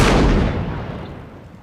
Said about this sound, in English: I heard the cannon fire now and then.